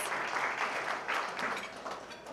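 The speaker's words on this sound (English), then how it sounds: "another round of applause" An audience at an annual transportation awards banquet applauds, a dense, steady round of many hands clapping at moderate volume without talk.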